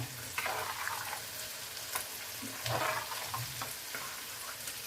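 Yogurt and spice mixture for a Bengali fish curry (doi macher jhol) frying in a pan: a steady close sizzle with stirring scrapes and small bursts, no talk.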